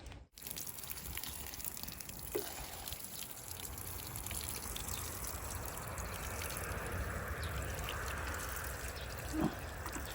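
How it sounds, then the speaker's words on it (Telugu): Water runs in a steady, soft trickle over garden plants in Korea, a continuous low gush close by with a faint clunk now and then and no voices. "ఫస్ట్ ఇక్కడ నీళ్ళు ఈ చెట్లకు పట్టేసి వెళ్తాను"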